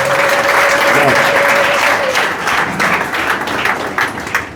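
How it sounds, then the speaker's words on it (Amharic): A church congregation breaks into loud, dense applause during a deliverance service, steady for a few seconds before thinning out into scattered claps. "ለኢየሱስ ደግሞ ክብር አጨብጭቡለት።"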